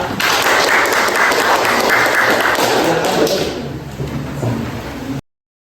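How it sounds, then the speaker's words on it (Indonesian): A class group at a 2023 teacher-training session at IAIN Syekh Nurjati Cirebon is applauded: loud, dense clapping from a roomful of people, steady at first, then thinning and softening before cutting off abruptly. "Tepuk tangan buat kelompok 1 berfoya-foya"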